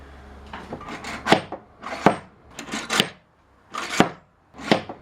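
A homemade lift under a router table raises and lowers the router with a series of hollow wooden clunks and knocks in irregular bursts, close and fairly loud, with short quiet gaps between them.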